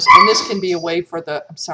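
A pet dog barks and whimpers in a burst of sharp yips right at the start, close and loud, followed by a person talking over the fading whines.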